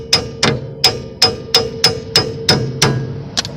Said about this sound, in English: I'm just gonna use the hammer, tap it